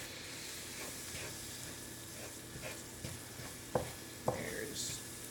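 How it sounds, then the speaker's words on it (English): Flour thickener being cooked into biscuit gravy on a stovetop gives a steady low sizzle and bubbling, with a few louder scrapes and clicks of stirring near the end. "put a little bit of Wondra in there, and then you're actually going to cook it."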